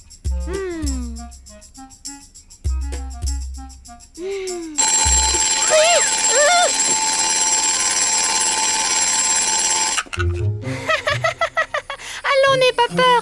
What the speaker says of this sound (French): C'est juste un réveil.